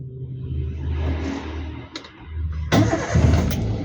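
A car engine cranks and catches after a low idle rumble, with a brief rising surge as it fires, then settles into a steady running hum.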